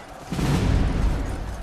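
A cannon fires with a deep, rumbling boom that rolls on loudly through a noisy background.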